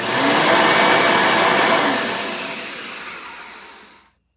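A Bissell upright vacuum cleaner, model 10 35-9, running loud and close with a strong steady whine, then winding down gradually as the motor is switched off.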